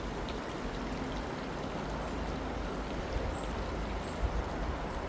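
A small outdoor stream of coppery-coloured water flows with a steady, continuous trickling rush. The sound is moderately close and has no talking over it.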